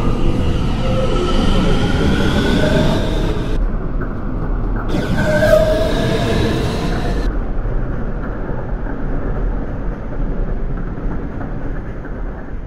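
An R211A subway car running as a Brooklyn-bound A Express in the OpenBVE train simulator, with a steady loud rumble of wheels and motors and a brief higher whine partway through, continuous with no talk.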